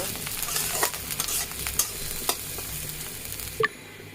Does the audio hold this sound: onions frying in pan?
yes